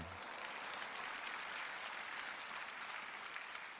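Steady applause from an audience at a church prayer meeting, a dense, even wash of clapping that holds at full strength throughout.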